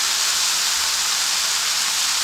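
Tomatoes fry in a pan with a pinch of salt, giving a steady, loud, broad sizzle that hisses evenly without a break.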